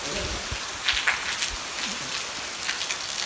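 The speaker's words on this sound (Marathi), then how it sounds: "परत आत्ता सुरू झाला पाऊस चांगला आहे" Steady rain pours down close by, a dense hiss of drops pattering on surfaces with occasional louder splashes.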